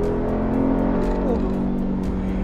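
A loud, steady engine roar fills the cabin of a Mercedes-AMG G63, a dense rumbling drone as it accelerates, with faint ticking and wind noise on top.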